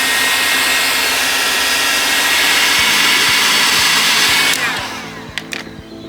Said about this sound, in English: you heat it with the heat gun on this end so that it curves around with the mirror